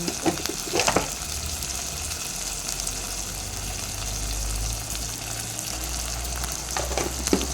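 Ginger garlic paste sizzling and frying in hot oil in a pan for a mutton curry, a steady loud crackling hiss with a couple of stirring bursts near the start and end.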